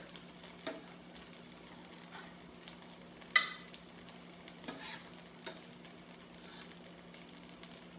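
Mushrooms, onions and garlic sauteing in a pan, a soft low sizzle under a few scattered clinks and scrapes of stirring, with one sharper knock near the middle.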